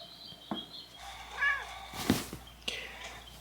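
A feral cat lets out a drawn-out, rising and falling yowl that wails like a siren, with a few short bumps and noises around it.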